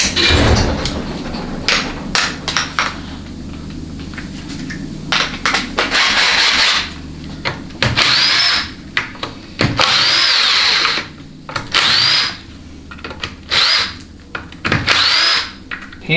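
A power tool, likely an impact driver, removes the 13 mm transmission pan bolts from a GM 4L60E. Loud, close bursts of rattling whirr start and stop repeatedly, with short high whines between them and no talk.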